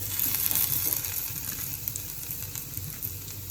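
Chopped tomatoes and onions sizzle steadily in a pan while being stirred for methi bhaji, a soft continuous frying crackle close by with low stirring scrapes.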